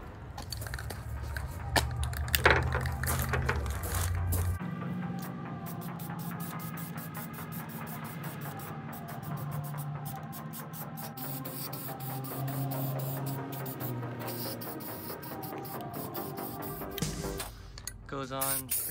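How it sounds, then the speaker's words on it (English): Bursts of spray paint hiss in short pulses onto Volkswagen Vanagon Syncro exterior pieces, mixed with clicking and mechanical rattling, close by and moderately loud. "Spray it on."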